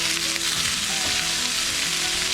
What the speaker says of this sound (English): put about 2 tablespoons olive oil in there. Go ahead and throw our onions in it